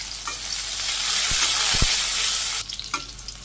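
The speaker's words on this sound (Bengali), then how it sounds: "এই পেঁয়াজগুলো ভাজি হয়ে গেছে" Onions, garlic and green chillies frying in a pan with cumin, a loud close sizzle swelling then cutting off sharply, followed by a few stirring scrapes and lighter crackles.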